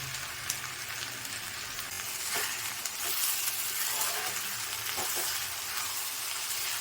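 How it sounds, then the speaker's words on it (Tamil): Eggs frying with drumstick leaves (murungai keerai) in a pan, a steady bright sizzle with occasional soft stirring taps, close and continuous. "நானும் இப்போ 5 முட்டை ஊற்றி வைக்கிறேன்."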